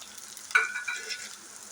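Garlic and pirandai are stirred in hot oil in a pan, giving a soft steady sizzle with a brief scrape of the spoon, heard alone.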